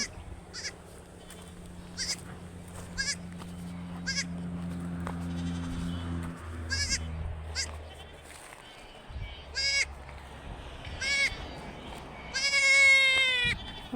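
Several goats bleat in short, wavering cries, some near and loud, over a low background hum that drops away midway.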